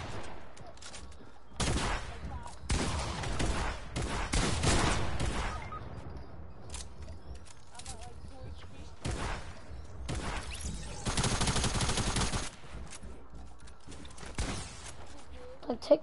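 Video game gunfire from a technical SMG and other weapons bursts in rapid volleys, some long and sustained, others short, loud and close, separated by quieter gaps.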